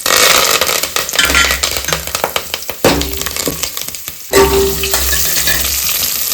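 Onions hit hot oil seasoned with curry leaves, bay leaves and cumin, bursting into loud close sizzling and crackling, with rattling stirring strokes and a brief pause before the frying surges again.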